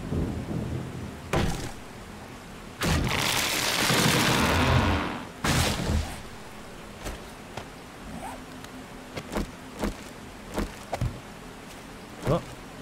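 Thunderstorm with rain in the 7 Days to Die video game: a loud, drawn-out rolling rumble of thunder swells mid-clip, with sharp, scattered cracks and patter continuing afterward.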